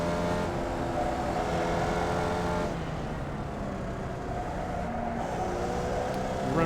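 A Formula Vee race car engine drones loud and steady in the iRacing sim at Summit Point's Jefferson Circuit, its pitch dropping in steps as the driver downshifts for a corner. No one speaks.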